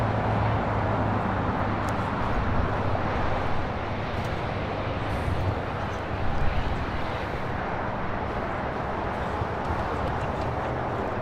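A Japan Airlines Boeing 787-9 Dreamliner in oneworld livery takes off from LAX bound for Tokyo Haneda, giving a steady broad roar of jet engines at a distance that holds level throughout, with no voices.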